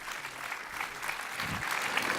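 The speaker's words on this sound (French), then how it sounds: "On peut l'applaudir, mesdames, messieurs" Audience applause at the George Grard film festival in Tournai, a dense, steady wash of many hands clapping with faint crowd murmur underneath, continuous and moderately loud throughout.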